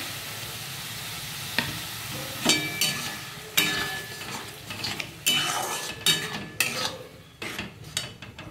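Spice masala with tomato paste sizzles as it fries in a pan for a katla fish kalia, while a spatula stirs and scrapes in irregular strokes over a steady frying hiss.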